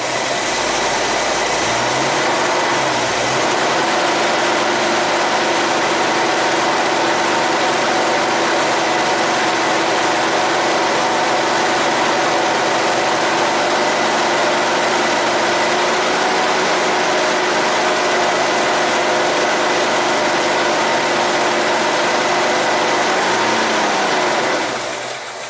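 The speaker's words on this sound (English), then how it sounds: "So with the battery fully charged, when we rev it up" A 1969 Ford Mustang Mach 1 engine runs loud and close for the whole stretch after years of sitting, a dense, steady roar with slight swells as it is revved.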